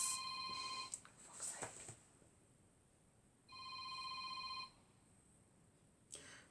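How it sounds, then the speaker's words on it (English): An indoor phone rings in two separate bursts of electronic tones with a quiet gap between them, fairly faint against a hushed room. "The phone was ringing."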